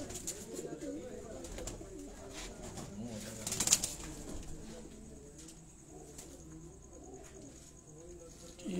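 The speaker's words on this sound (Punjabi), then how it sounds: "ਸਾਡਾ ਸੱਤਵਾਂ ਕਬੂਤਰ" A pigeon coos on a rooftop in Sialkot, with more birds calling around it and a brief sharper call partway through, all heard over steady outdoor background noise.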